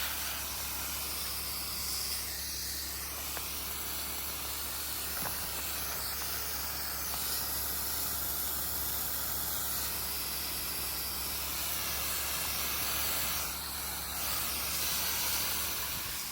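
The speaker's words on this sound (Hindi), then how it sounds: "तो यहाँ पर स्प्रे हो रही है।" A pesticide sprayer mists an apple orchard at petal fall on a windy day, producing a continuous soft hiss with faint breezy rustle and a few brief bursts of spray.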